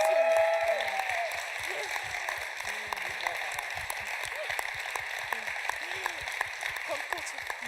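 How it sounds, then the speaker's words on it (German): Audience applause at a Sunday church service, a steady wash of clapping sustained at even loudness throughout, with background voices and a short tone near the start. "Jetzt kannst du klatschen."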